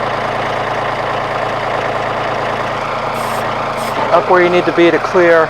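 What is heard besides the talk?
tractor engine running while attaching a backhoe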